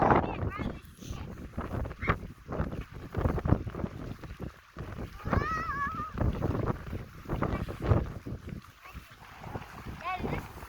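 Strong gusts buffet the microphone on a windy day, rumbling in uneven bursts while a child and an adult talk close by.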